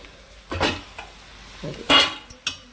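Ridge gourd pieces dropped into a hot spice tempering in a pan, giving a few short sizzling bursts and stirring scrapes spaced through a quiet background.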